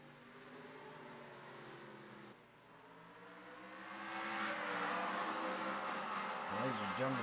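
Racing trucks roar away from a green flag start at Watkins Glen in a racing video game, a dense engine drone that swells and grows louder partway through as the field accelerates.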